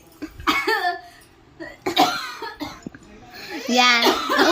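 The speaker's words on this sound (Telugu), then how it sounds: "అందుకనే దగ్గు వచ్చేసింది" Coughing from a child eating biryani during a food challenge, a few short harsh bursts spread through the clip amid children's voices and a little laughter.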